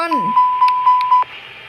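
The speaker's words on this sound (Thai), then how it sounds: "อย่าลืมตรวจสอบการแจ้งเตือนของ ของไฟด้วย" An engine fire warning alarm being tested in the Aerofly 2 flight simulator gives a run of about five evenly spaced, steady electronic beeps, loud and close, before cutting off.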